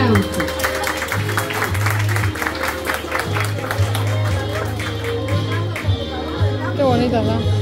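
Crowd applause at a family gathering, steady clapping mixed with chatter and children's voices, held under a constant loud low hum of background music.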